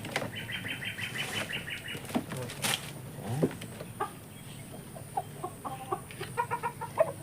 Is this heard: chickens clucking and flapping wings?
yes